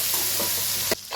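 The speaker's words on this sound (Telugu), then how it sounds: "ఆనియన్స్, గ్రీన్ చిల్లీస్, పుదీనా, కొత్తిమీర కూడా యాడ్ చేసుకొని ఒకసారి బాగా ఫ్రై చేసుకోవాలి." Onions, green chillies, mint and coriander fry in oil in a pan for chicken biryani, giving a dense, close sizzle with a few soft stirring scrapes before the sound drops away sharply near the end.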